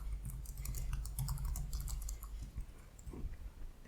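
Quiet, rapid typing on a computer keyboard, with a run of close keystroke clicks followed by a few scattered taps over a soft low hum, and no one talking.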